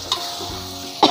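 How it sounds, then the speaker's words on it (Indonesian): Tomato and spices stir-fry in a pan for sayur lodeh, a soft, continuous sizzle with a couple of brief scraping stirs. "Ini kita tumis sampai harum ya."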